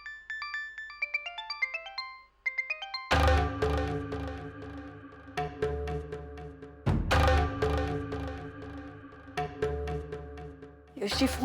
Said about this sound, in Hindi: यश जी फोन उठाइए, फोन उठाइए